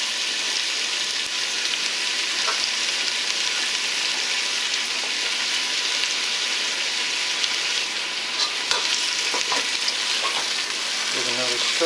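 Rinsed celery goes into a beef stew pan and a steady, moderate sizzle fills the kitchen, with occasional clinks and stirring noises near the end.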